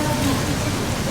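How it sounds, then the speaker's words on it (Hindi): Heavy rain pours down at DDU railway station, a dense, unbroken roar of water filling the whole moment at close range. "बारिश तो तगड़ी हो ही रही है।"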